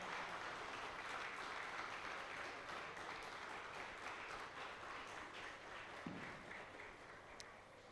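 Audience applause for a speaker at the BRCTF Conference 2025, a steady wash of many hands clapping that runs the whole time and fades slightly toward the end, with no voices over it.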